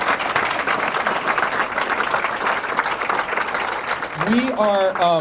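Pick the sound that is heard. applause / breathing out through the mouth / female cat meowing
applause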